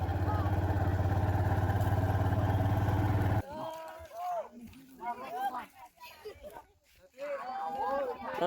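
A two-wheel farm tractor engine at a Lao wedding procession chugs loud and close for about three seconds, then cuts away to a busy crowd scene with people chattering and other engines running in the background.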